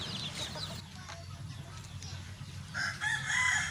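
A Rhode Island Red mahogany rooster crows in Bohol, its call rising clearly near the end over low farmyard background noise and faint clucking.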